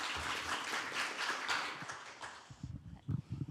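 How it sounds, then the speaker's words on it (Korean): Applause from an audience at a science and technology policy forum in the National Assembly, a moderate wash of clapping that dies away after a couple of seconds, followed by scattered footsteps and shuffling. "큰 박수로 맞이해 주시기 바랍니다."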